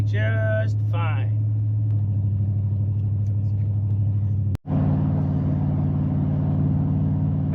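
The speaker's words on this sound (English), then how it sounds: "How does a 6-liter with a hot camshaft tow?" A Turbo Dakota truck with a 6-liter hot-cam engine tows a load, its low steady engine drone running throughout, with someone talking briefly at the start.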